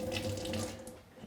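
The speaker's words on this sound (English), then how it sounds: "So we've soaked it a moment, then we rinse it off." Tap water runs steadily into a sink as a ring is rinsed after soaking in a light acid solution, a short near splash of flowing water.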